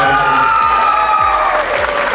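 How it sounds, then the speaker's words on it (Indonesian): Audience applause at an international seminar, a steady wash of clapping heard under tonal sounds and faint voices, loud and close throughout. "Tepuk tangan buat KBMHD."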